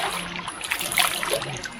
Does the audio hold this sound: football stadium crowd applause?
no